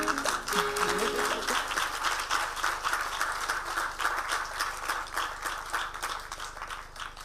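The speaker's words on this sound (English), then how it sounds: "Another round of applause." Applause from a crowd at the inauguration of the United Nations Nairobi expansion project, starting after a brief tone and settling into moderate, fairly distant rhythmic clapping that slowly thins toward the end.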